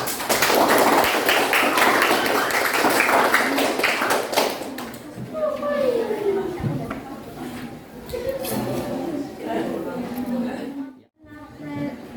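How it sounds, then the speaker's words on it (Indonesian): A classroom full of students claps for a group that has just presented. The applause is dense and loud for a few seconds, then fades out, and a teacher's voice carries on over light tapping and shuffling. "Tepuk tangan dulu untuk kelompok 5."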